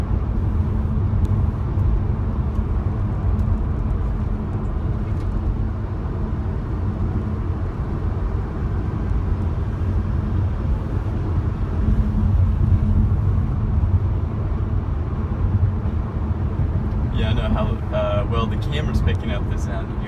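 Steady low road rumble and engine drone inside a moving 2005 Saab 9-2X Aero, muffled and constant, with a brief rattle of higher clicks near the end.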